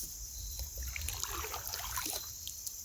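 Paddle strokes trickle and dribble through river water as a boat moves upstream, soft close splashes recurring over a steady background hiss, with no talking.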